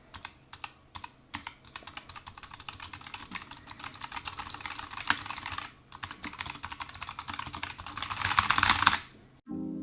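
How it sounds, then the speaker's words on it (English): Typing on a Razer Huntsman Mini 60% keyboard with optical switches: fast, dense clicking keystrokes close up, with short pauses, a burst of quicker harder typing near the end, then a stop. "there is a sound test coming up"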